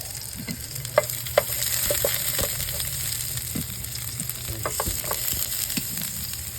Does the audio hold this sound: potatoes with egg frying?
yes